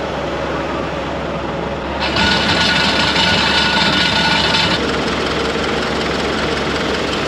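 A steady low tractor engine idle rumbles throughout, with a brighter mechanical hum swelling in for a few seconds midway before settling back.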